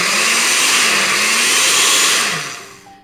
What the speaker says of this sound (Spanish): Y a licuar.